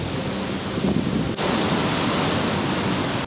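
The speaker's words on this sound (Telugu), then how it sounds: "వర్షాకాలంలో ఎక్కువ అలలు పెద్దగా ఉంటాయి కూడా." Monsoon-season ocean waves break on Kalacha beach in Goa, a continuous loud roar of surf with wind noise, no voices.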